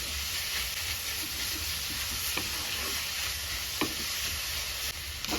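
Onions frying with salt in a pan at home while samosa filling is prepared, giving a steady broad sizzle with occasional stirring clicks throughout.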